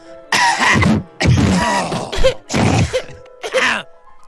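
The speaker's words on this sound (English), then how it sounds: "can we all just cough into our microphones real quick?" Several people cough into microphones one after another in quick succession, four or five loud, close bursts with brief gaps, ending in a shorter final cough.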